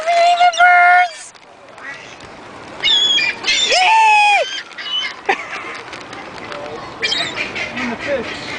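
Ducks and other birds being fed squawk and quack loudly in several bursts, some long and drawn out, close by amid outdoor noise and voices.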